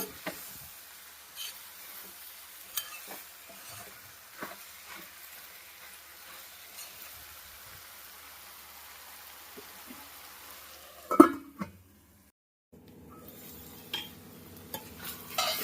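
Broad beans and potato curry cooks with chili powder in a pan, giving a faint, soft sizzle broken by occasional stirring scrapes and clicks, with no talking.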